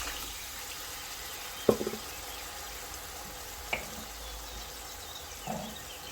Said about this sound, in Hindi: थोड़ा सा मैं पानी का और ऐड करूँगी ताकि मसाला नीचे लगे नहीं।